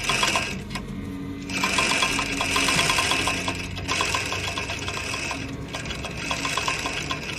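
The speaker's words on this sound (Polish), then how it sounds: "kiedy Buffalo Bill szyje na maszynie?" Sewing machine stitching steadily in the Silence of the Lambs scene where the killer sews a piece of skin, a dense continuous mechanical whir with brief pauses, loud and close with no talk.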